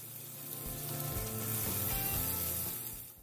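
Chicken breasts sear in a hot pan, a steady close sizzle and crackle with light stirring or shifting of the meat.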